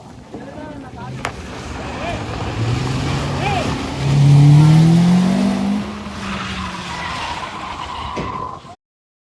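A car driven recklessly into pedestrians on a street in Bhavanipuram, Vijayawada, its engine roaring up and tires squealing in a loud surge midway, amid street noise and a sharp impact-like crack early on.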